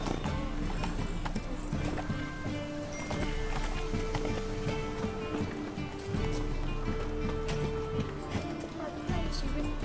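Roach the horse galloping in The Witcher 3, rapid hoofbeats drumming steadily under game music and a voice, loud and continuous throughout.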